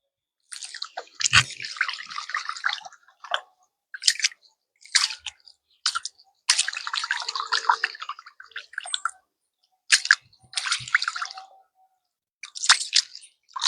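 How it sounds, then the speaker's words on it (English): Water is poured into a pot of rice to wash out the starch, producing intermittent splashing, swishing and sloshing bursts with short gaps, close and fairly soft. "Some more water in there again."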